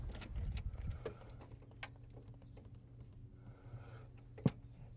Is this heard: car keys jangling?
yes